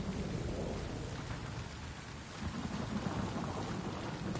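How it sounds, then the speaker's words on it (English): Heavy rain pouring steadily and loudly, a dense hiss with low rumbling like distant thunder, with no voices. "I can't hear anything above this rain."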